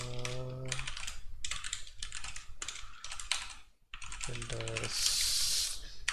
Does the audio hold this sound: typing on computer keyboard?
yes